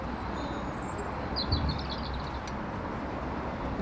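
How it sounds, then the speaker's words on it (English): A robin gives a short high trilling phrase, fairly faint against steady rushing water and background noise at a canal lock, with one brief low thump partway through. "Little robin singing its heart out."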